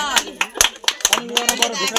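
Hands clap at a wedding in a quick, uneven series of about a dozen sharp, close claps, with a voice speaking over them.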